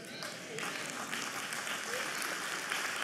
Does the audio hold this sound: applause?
yes